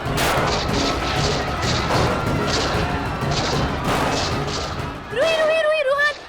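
A rapid series of sharp, loud bangs crackles through noisy chaos, followed by a high wailing cry.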